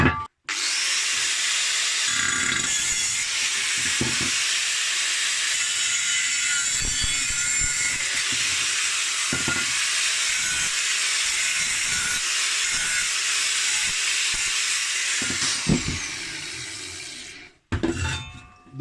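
Saw cutting through a metal seat-support piece for a motorised drift trike, a steady loud rasping grind running continuously for about seventeen seconds before stopping abruptly.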